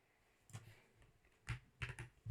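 A computer keyboard clicks in a few scattered keystrokes while code is typed, quiet and close, with gaps between presses and no talk.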